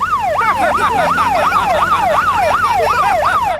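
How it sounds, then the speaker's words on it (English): A cartoon vehicle siren from a Peppa Pig episode wails in a fast, regular up-and-down sweep, about two cycles per second, loud and close, with no talking over it. "Daddy, can we do the siren?"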